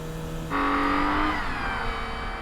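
A three-row minivan with a CVT in manual mode, held in second gear on the Tsukuba circuit, revs high against its limiter, a loud sustained engine whine that jumps up in pitch and holds steadily.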